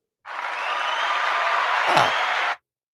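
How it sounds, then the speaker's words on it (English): A short burst of canned-sounding applause, a dense even clapping texture that starts suddenly, holds for about two seconds with a thump near the end, and cuts off cleanly. "I'm going to give that a little round of applause"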